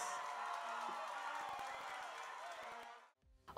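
A live audience at a concert in Rohnert Park, 2016, cheers and applauds in a loud, sustained crowd roar lasting about three seconds, then cuts off abruptly.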